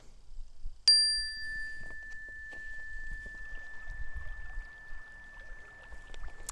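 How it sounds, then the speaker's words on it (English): A single clear bell strike rings out, bright and close, its pure tone lingering and slowly fading over several seconds in a quiet room. "I'm going to start and end with a little bell here, just to give us a little different sound."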